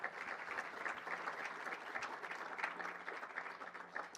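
Steady applause from an outdoor crowd greeting the newly announced 107th Rose Queen, a dense even wash of many hands clapping throughout without a break.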